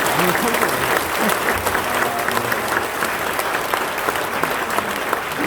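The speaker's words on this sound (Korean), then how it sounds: "박수 한번 해주세요." Sustained applause from a church congregation at a dedication service, dense and steady clapping that continues at an even level throughout.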